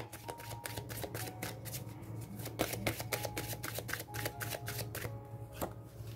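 Tarot cards being shuffled by hand, a rapid run of crisp riffling flicks and slaps repeating close to the microphone for several seconds over a faint low hum, with no talking.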